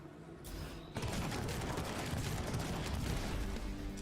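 Gunfire rattles in a video game trailer, a sudden dense burst of rapid shots kicking in after a brief lead-in and roaring on continuously and loudly.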